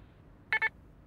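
A short electronic beep in two quick pulses, clear and close over a quiet hiss, like an answering machine tone.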